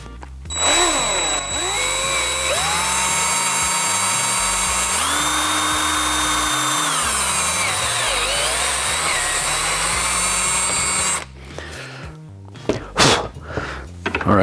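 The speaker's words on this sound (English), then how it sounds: "Let's go ahead and drill this out carefully." A power drill whines steadily and loudly for about eleven seconds, boring a mounting hole for outdoor shades, its pitch shifting as it bores, then stops, leaving scattered handling noises.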